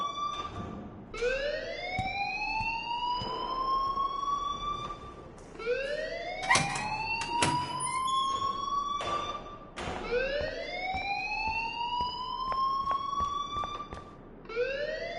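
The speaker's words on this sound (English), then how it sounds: "please turn off that alarm since that's your job" A rising, wailing alarm in the video game Life is Strange repeats four times in steady cycles, loud and continuous, with sharp clicks and bangs between sweeps.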